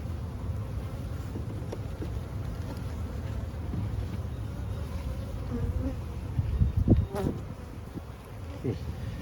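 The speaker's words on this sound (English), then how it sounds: "Now you'll notice this hive's a lot quieter than the hive over there." Honeybees droning steadily in a quieter hive made from a split, a close, continuous low buzz with a brief louder swell near the end and no talk.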